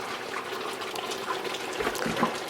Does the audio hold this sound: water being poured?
yes